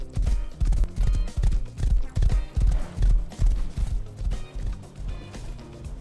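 Horse hooves galloping in the survival video game Rust: a steady, rapid run of heavy thuds, loud and close, repeating in an even rhythm throughout.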